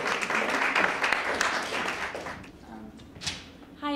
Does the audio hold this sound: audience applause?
yes